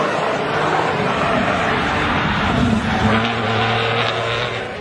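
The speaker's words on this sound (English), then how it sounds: "The car's 6-liter V12 engine was the first of a new generation and produced up to 660 brake horsepower." A Ferrari Enzo with a 6-liter V12 engine roars steadily, with a sustained tone that rises and holds toward the end, under a dense layer of noise, alone and fairly loud.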